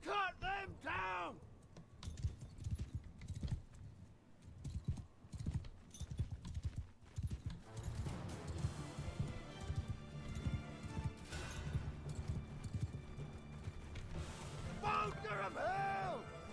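Horses galloping in Mount & Blade II: Bannerlord, rapid hoofbeats pounding through a battle with whinnies and clashing noise, while someone talks loudly over the action.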